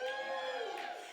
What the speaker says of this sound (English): the applause got a lot smaller